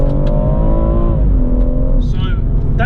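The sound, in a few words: BMW M140i Shadow Edition accelerating in Sport Plus mode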